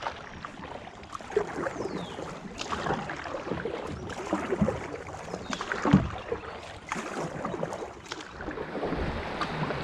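A Wilderness Systems Recon 120 kayak is paddled on moving water, its blades splashing in irregular strokes close by, with light wind noise and water slosh throughout.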